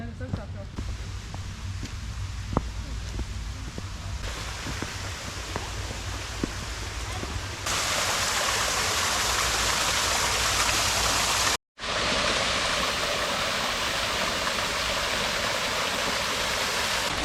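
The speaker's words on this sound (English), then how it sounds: "that is the mighty waterfall of Dauda, or Dauda Sūdenskritumu" The Dauda waterfall in Latvia pours steadily in a broad, unbroken rush of flowing water that grows louder partway through, then continues after a brief cut.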